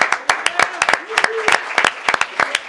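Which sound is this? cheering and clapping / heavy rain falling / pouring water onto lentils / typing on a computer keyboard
cheering and clapping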